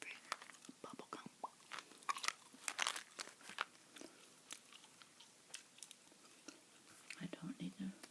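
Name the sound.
chewing Bazooka sugar-free bubble gum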